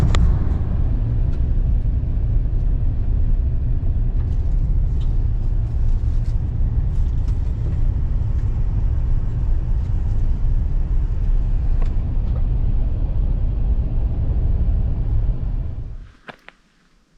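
A Polaris RZR side-by-side drives a forest trail in the Allegheny National Forest, its engine and drivetrain a steady, loud low rumble that holds for about sixteen seconds before quickly dying away, with no voices.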